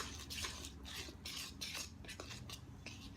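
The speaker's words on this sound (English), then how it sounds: "So you just mix well." Corn fritter pancake batter made with oat flour being stirred in a bowl, a faint, steady scraping and swishing of a utensil in repeated strokes.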